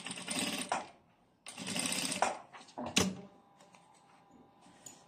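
A sewing machine stitching bias binding along the front edge of a kimono, two sustained whirring runs followed by short bursts and clicks, close and clear with no talk.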